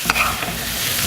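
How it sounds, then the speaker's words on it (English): Leftovers and dressing stirred in a warm pan, a spoon scraping and mixing over a soft, steady sizzle, close up and alone. "then we mix it all together"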